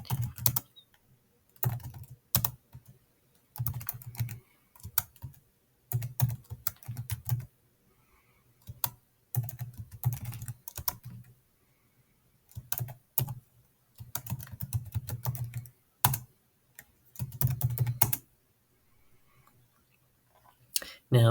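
Typing an iptables command on a computer keyboard, with close, crisp key clicks coming in irregular bursts separated by short quiet gaps.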